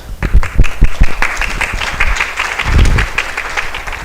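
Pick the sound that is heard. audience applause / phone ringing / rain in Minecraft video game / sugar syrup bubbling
audience applause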